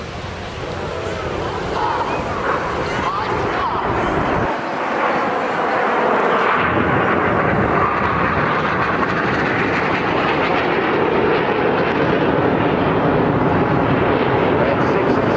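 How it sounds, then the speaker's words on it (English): Red Arrows jet aircraft in a flying display at Bournemouth, a loud, steady roar of jet engines that swells and sustains across the whole stretch, with a commentator's voice over it. "7 aircraft pulling to the vertical, the synchro pair staying low in the centenary split"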